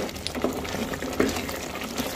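Water poured into a pot of chole cooking on the stove, a steady liquid pouring and bubbling sound with a few brief splashes, close by and moderately loud.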